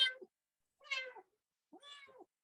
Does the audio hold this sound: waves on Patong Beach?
no